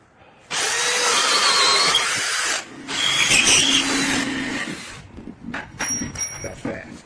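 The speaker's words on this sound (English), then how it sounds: "This drill with this speedboard or Irwin, speedboard bit, deadly combination." DeWalt 20V MAX compact brushless cordless hammer drill spinning an Irwin Speedbor spade bit through wood, two sustained loud bursts of high whine close up, then lighter clicks and handling noise.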